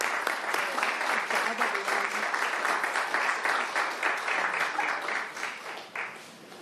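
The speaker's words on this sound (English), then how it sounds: "Please join me in a round of applause" A city council meeting audience gives a steady round of applause for a proclamation, dense clapping holding evenly before tapering slightly near the end.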